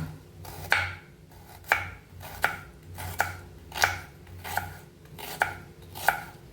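A knife chops onions on a board for biryani in a steady, even rhythm, about nine crisp, close thuds spaced roughly evenly apart, with no talking.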